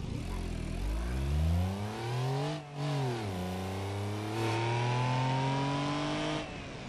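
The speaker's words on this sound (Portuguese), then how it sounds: "Olha o barulhinho, galera, do 500 cilindrada" A 500cc engine in a three-wheeled car in BeamNG.Drive revs up and down through several rises and falls, loud and close, with no talking.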